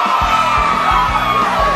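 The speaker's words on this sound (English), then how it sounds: "They're very rowdy and loud, but it's good." A rowdy crowd yells and screams at a live music show, a loud steady roar over a thumping low beat that pulses about three times a second.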